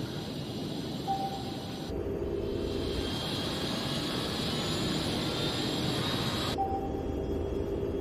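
Steady, droning engine hum of the Gunspeeder craft diving at 3900 m in an Ultraman Mebius anime scene; a continuous mechanical roar whose tone shifts and wavers partway through, heard alone without talk.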